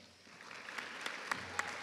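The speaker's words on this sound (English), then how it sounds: "Can we have a big round of applause for all our graduates today" Quiet applause from the audience at an MIC Bachelor of Arts graduation ceremony, a soft, fairly distant patter of many hands that swells slightly, with a few louder claps toward the end.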